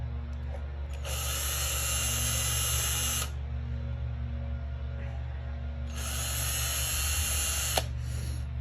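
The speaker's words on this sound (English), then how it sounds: "we're going to start by drilling a couple of pilot holes" A power drill boring pilot holes in wood, running in two bursts of about two seconds each with a quiet pause between, plus a brief third whir at the end, heard up close over a steady low hum.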